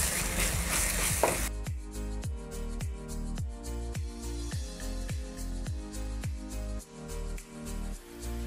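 Tomato gravy with spices sizzles in a pan, a brief hiss up front giving way to a regular series of close scraping stirring strokes, roughly two per second, over a faint sizzle.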